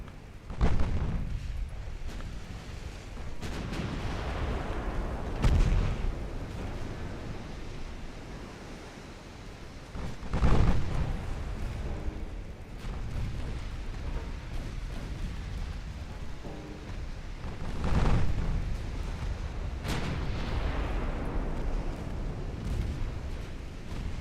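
Warship naval guns firing in the naval battle game Ultimate Admiral Dreadnoughts: several deep booming salvos spaced a few seconds apart, rising out of a steady roar of sea and wind.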